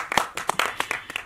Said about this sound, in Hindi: ताली बजा लें।